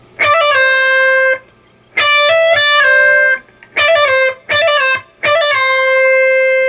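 A distorted electric guitar plays a riff with hammer-ons, pull-offs and slides, in four loud, choppy bursts of sustained notes separated by short gaps.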